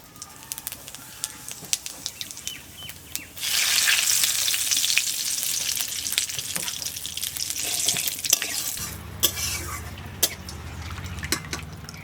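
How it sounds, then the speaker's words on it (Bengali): Whole cumin and bay leaf dropped into hot leftover fish-frying oil in a wok, bursting into a loud crackling sizzle after a few soft clinks, then settling into steady frying with scattered pops. "এবার ফোড়নো দেবো গোটা জিরে আর তেজপাতা"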